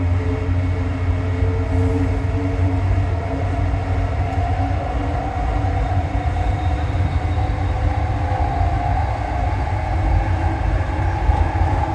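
Steady rumble inside a moving train between JFK Airport and New York, a constant low roar of wheels and motor that continues without pause, with no voices.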